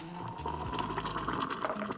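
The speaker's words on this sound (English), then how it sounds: "pour that almost boiling water right over it" Nearly boiling water pours steadily over tea in a cup, a close gurgling splash whose pitch shifts slightly as it fills.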